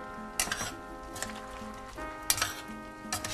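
Spoon stirring chili powder and spices in a metal pot on a home stove, giving several separate scraping clinks against the pot over a steady low background hum.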